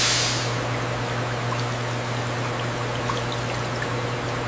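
A centrifuge spinning pomegranate juice at 7,000 RPM gives a steady, loud rushing whir with a constant low hum underneath, holding unchanged throughout with no voices.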